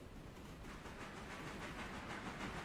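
A steam locomotive in the video game Railroader vents steam, a continuous hissing rush with a faint rhythmic pulsing, fairly quiet and unbroken, with no voices.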